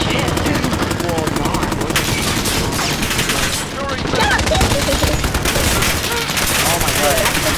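Dense automatic gunfire in a Call of Duty: Modern Warfare multiplayer match, loud and continuous with overlapping rapid bursts and occasional heavier booms, with players talking faintly underneath.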